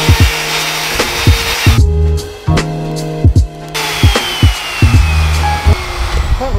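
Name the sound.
router plunge-cutting solid oak worktop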